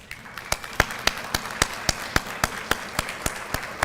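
Applause for Black Solidarity Day committee members, heard as a sparse, fairly regular series of sharp claps from a few hands, close and distinct with faint room noise behind.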